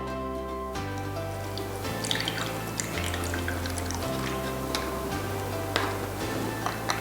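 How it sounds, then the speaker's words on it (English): Ink solution is poured into a plastic bottle through a filter funnel, a soft trickle with light drips and ticks running under steady background music. "With the help of a filter funnel, we can pour the ink solution into the bottle."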